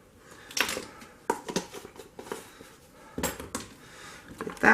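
Argan silk lotion ingredients being stirred together in a container, with close, irregular clinks and scrapes of a utensil against the container in scattered bursts, and no talking.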